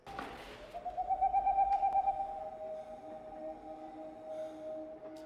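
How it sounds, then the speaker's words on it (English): An owl calls with a steady, drawn-out tonal hoot held for several seconds at moderate distance over a low ambient rumble. "There's that owl, y'all."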